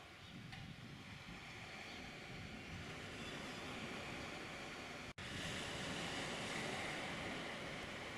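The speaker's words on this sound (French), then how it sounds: "Qu'il fait bon de contempler au calme la plage de Saint-Palais-sur-Mer." Steady broadband wash of surf rolling onto the beach at Saint-Palais-sur-Mer on the French Atlantic coast, continuous and fairly distant, with wind noise and a single brief dropout midway; no voices.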